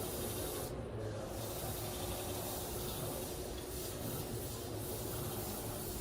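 A shear blade is sharpened on a sharpening machine, giving a steady, continuous abrasive hiss and grinding rub at an even level throughout.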